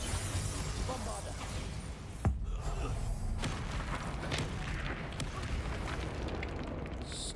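A Bombarda explosive spell goes off in the video game Hogwarts Legacy: one sharp blast bursts out of a dense, busy combat soundscape, and voices are heard over the action.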